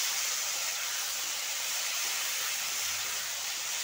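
Vegetables with turmeric sizzle in a pan while being stirred, a steady loud hiss with no break and no voices.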